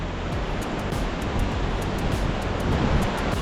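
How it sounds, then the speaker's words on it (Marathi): A loud, steady wash of rushing water fills the clip, broad and unbroken from the nearby Thoseghar waterfall in Satara, with no voices. "इथे सुद्धा आपल्याला सुंदर असा एक धबधबा दिसू शकतो"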